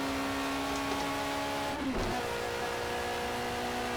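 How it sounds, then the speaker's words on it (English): A Ford Capri in Project CARS at full speed on the Nürburgring, its engine holding a steady loud drone with a brief dip around the two-second mark, no voices over it. "I'm so impressed how this car sounds."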